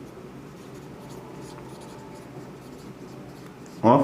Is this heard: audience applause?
no